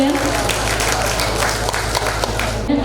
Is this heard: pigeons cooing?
no